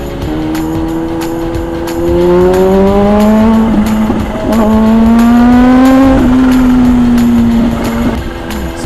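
A big Suzuki Raider motorcycle revs hard and accelerates close by, its engine tone rising in long climbing pulls between gear shifts, loud and steady with no talking.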